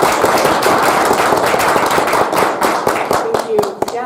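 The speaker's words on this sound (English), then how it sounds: "Let's give her a warm round of applause." Warm applause for poet Rebecca Aronson fills the room, a dense wash of many hands clapping steadily and close, with a few voices audible underneath.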